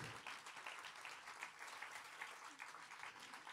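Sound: applause for a guitar piece

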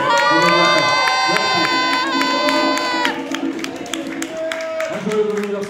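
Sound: concert audience applause and cheering

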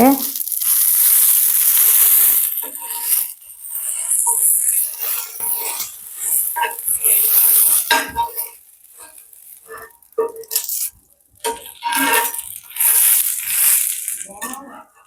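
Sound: masala dosa sizzling and frying on the pan

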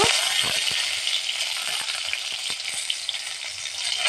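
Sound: cumin seeds and dried chillies frying in oil

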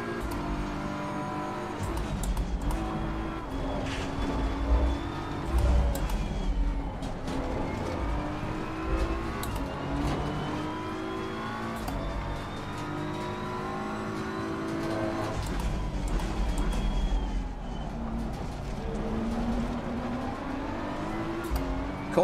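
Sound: Audi race car engine in a racing video game

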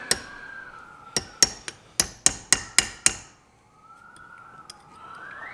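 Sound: hammering on a steering cylinder and tie rod

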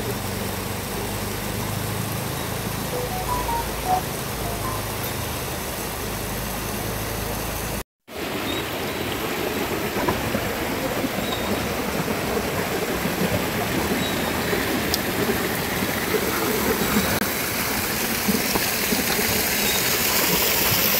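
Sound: water gushing from a pipe

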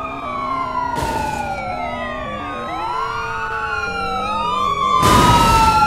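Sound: police car and ambulance sirens in driving video game

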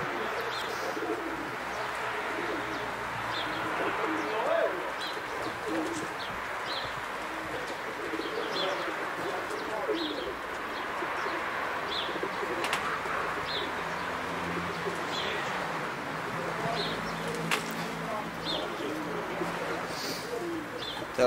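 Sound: pigeons cooing at a loft

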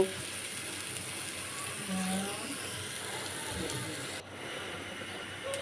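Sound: onions frying in wok

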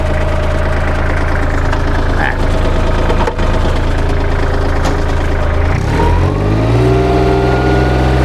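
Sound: Kubota L3408 tractor engine running with rear PTO spinning

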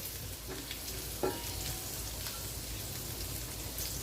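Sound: garlic frying in butter

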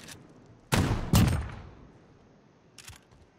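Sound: shotgun shot in a video game

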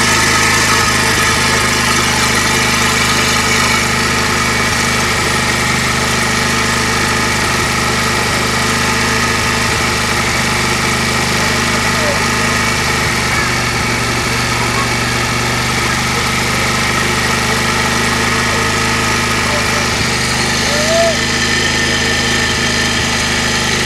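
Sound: Bajaj Pulsar 125 BS6 motorcycle engine idling around 3000 rpm

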